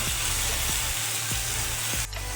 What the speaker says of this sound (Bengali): এবার আমি একটু ভালো করে ভেজে নেব